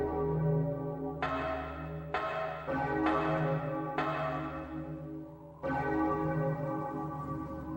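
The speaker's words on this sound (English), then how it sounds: "the bell is ringing" Church-style bell tolling in the video game Resident Evil 3 Nemesis on PS1, a series of resonant strikes with long ringing tails layered over a low sustained hum, clear and moderately loud.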